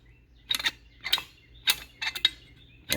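Throttle linkage on a dual-quad Edelbrock carburetor setup worked by hand, five or six short mechanical clicks and creaky snaps in quick bursts, close and fairly crisp against near silence.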